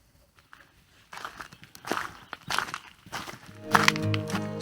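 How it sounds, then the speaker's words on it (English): A person's own footsteps walking along a quiet rural road, irregular crunching and thudding steps that grow louder toward the end, with no talk. "The only sounds that I hear is my own footsteps and"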